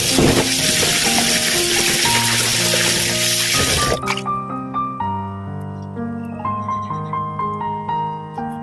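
Fried rice with chives sizzles loudly in a hot pan for about four seconds, a dense steady hiss that cuts off abruptly, after which music with sustained tones plays alone.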